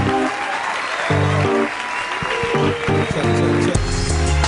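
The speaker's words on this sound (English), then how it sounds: "I want y'all to put your hands together and make some noise" Applause from an audience, a steady wash of clapping with music-like tones and voices mixed in, fairly loud and continuous.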